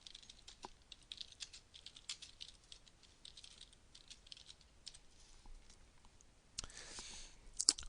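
Soft, irregular keystrokes and clicks on a computer keyboard, quiet and close, typing in short bursts with a slightly louder flurry near the end.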